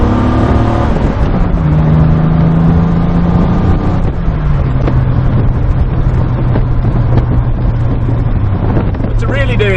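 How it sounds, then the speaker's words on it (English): A loud straight-six Triumph TR6 engine roars and climbs through the revs, pitch rising then dropping between gear changes, with wind rushing over the microphone. "That fantastic throaty roar as you put your foot down and hear that straight 6 roar into action"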